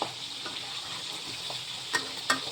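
Boiled tapioca frying in a pan with a soft steady sizzle, a spatula stirring and scraping now and then with a couple of sharper clicks, close and fairly quiet.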